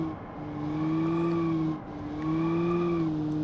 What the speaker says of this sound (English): Sounds good, this car.